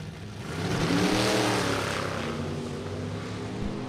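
A 1941 Willys coupe with a Hemi engine at a vintage drag race: a loud, steady engine roar that swells near the start, then holds as a sustained drone with no talk.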